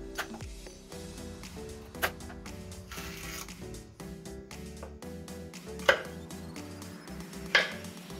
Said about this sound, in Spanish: Vamos a arreglar la zanahoria.